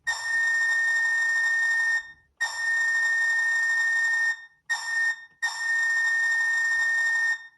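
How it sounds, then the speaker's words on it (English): The air whistle on an Athearn Genesis SP C-50-8 caboose model sounds four loud, shrill, steady blasts, the third very short and the last the longest. "F2 is an air whistle"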